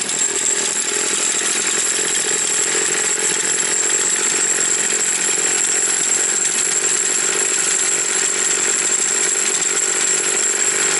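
A 3800 chainsaw's small two-stroke engine idles steadily at a high, buzzing pitch, loud and close, with no change in speed and no voices.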